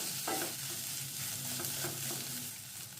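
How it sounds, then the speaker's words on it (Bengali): Mashed green pea paste mixed with salt and sugar is stirred in a hot pan, giving a dense continuous sizzle with soft scraping strokes, close and steady with no talking. "দিয়ে ভালো করে একটু নেড়ে মিশিয়ে নেব।"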